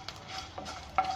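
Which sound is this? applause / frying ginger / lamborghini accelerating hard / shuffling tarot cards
frying ginger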